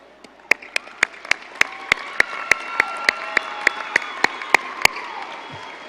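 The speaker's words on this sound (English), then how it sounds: "please take a moment to thank your friends and your families and your teachers by a round of applause" Graduation audience at the 2018 Legacy High School ceremony clapping in a steady, evenly spaced rhythm, sharp claps standing out over a softer crowd background that continues briefly after the beat stops.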